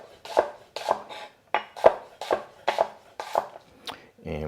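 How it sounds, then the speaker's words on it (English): An onion being cut into thin slices with a knife on a board, seven or eight crisp, evenly spaced chops, each with a short crunchy tail, close and clear with no talking, ending in a softer shuffle. "All right, so just nice, fairly thin slices of our onion."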